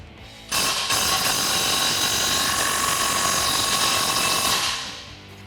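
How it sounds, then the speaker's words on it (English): A ratchet with a 13mm socket tightens an exhaust clamp over the tailpipe during a muffler install on a 2019-2022 RAM 1500, giving one loud, continuous mechanical whirring run of about four seconds, close up and alone. "then we can come in and tighten that down with a 13mm socket"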